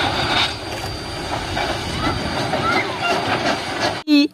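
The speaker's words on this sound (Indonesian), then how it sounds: "Widih, ada kereta api." Steady rumbling and clattering of a toy train running along its track, with a faint whine, ending in a brief sharp noise.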